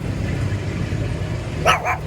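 A small dog gives two quick barks near the end, fairly close, over steady traffic-like background noise on a street in Bangkok, Thailand.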